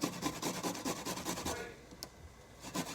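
Garlic is grated on a cheese grater in a kitchen, making quick rhythmic rasping strokes up close that slow and fade near the end.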